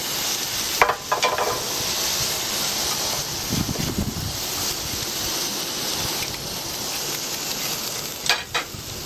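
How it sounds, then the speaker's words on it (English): Meat juice poured onto a hot, oiled grill grate at a barbecue grilling contest sizzles in a steady, close hiss, with a few brief clatters over the continuous frying sound. "Let's pour some of that juice on there."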